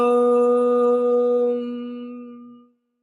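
A single voice chants a sustained Om, rich in harmonics, held steady for over two seconds before fading smoothly into silence, close and alone.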